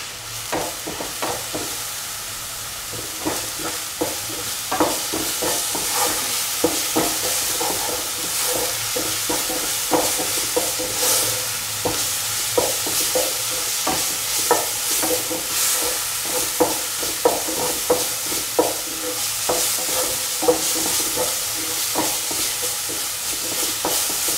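Mutton meatball stew paste being stirred with salt in a hot pan, a long run of repeated scraping, clicking spoon strokes over a soft sizzle, close and steady, no voices.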